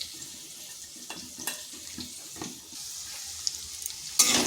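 Ground lentil paste with salt and a few grains of sugar is beaten by hand, making soft, quiet, wet stirring and slapping sounds, with a brighter hiss near the end.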